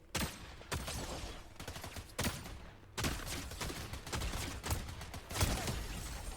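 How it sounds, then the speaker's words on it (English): Rapid bursts of gunfire from a Fortnite match, several volleys of shots crackling one after another at mid distance with brief lulls between them. "I do see some shots coming at us from a different angle"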